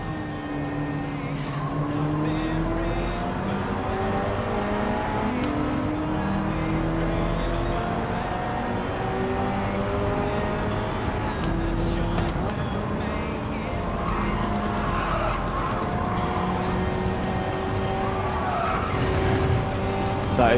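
Race cars in Gran Turismo 7 roar steadily during a championship race, with sustained engine whine and repeated tire skids and squeals, loud and continuous throughout.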